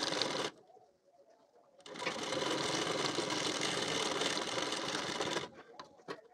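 A sewing machine stitches along a blouse, a short run followed after a pause by a long steady whirring burst of nearly four seconds, close and moderately loud, with faint voice and handling sounds around it.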